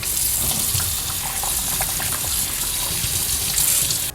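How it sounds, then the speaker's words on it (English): Tap water gushes steadily into a TINANA crystal clear ice ball maker, a continuous loud rushing pour with faint splashing and no talk. "Let's start adding water in."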